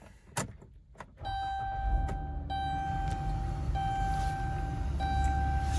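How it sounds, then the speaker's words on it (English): A 2014 Dodge Grand Caravan SE starts with a brief crank, then settles into a steady idle, with a warning chime tone running over the engine. "we'll go ahead and start the vehicle up"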